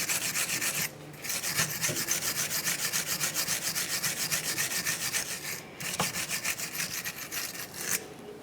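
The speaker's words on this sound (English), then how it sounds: "You can use a wire brush for this." Wire brush scrubbing the wheel bearing hub surface of a 1994-1997 Honda Accord during a rear brake job, a fast, close scratchy rasp of rapid strokes with two brief pauses.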